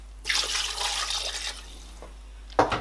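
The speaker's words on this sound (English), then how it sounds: "So I've added a bit more water in it." Water pours into a pot of bitterleaf soup in a home kitchen, a soft continuous splash and trickle lasting about a second and a half, followed by a short clatter, with no talking.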